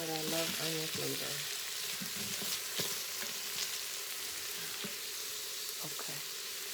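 Cooked black-eyed peas warm in a pan with a steady, fairly loud sizzle and frying crackle throughout, a few scattered clicks and scrapes on top; a voice murmurs briefly near the start.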